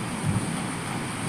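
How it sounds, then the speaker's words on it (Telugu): Strong, dusty wind blowing in Kuwait, a steady broadband roar with gusty low-end buffeting across the microphone throughout, loud and continuous with no voices. "చూడండి ఎలా దుమ్ము గాలి వస్తుందో"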